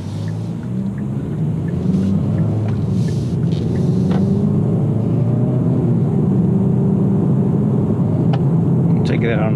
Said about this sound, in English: I'm not used to driving a turbocharged vehicle, so see if I can handle this bad boy.